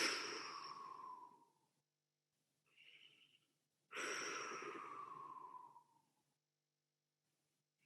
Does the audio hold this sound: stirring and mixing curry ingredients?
no